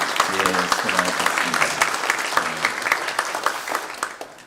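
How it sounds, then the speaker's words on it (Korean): Church congregation applauding during a Korean Presbyterian Sunday worship service, many hands clapping in a lively crackle with a low voice briefly under it early on, fading slightly toward the end. "우리 감사와 격려의 박수 할까요?"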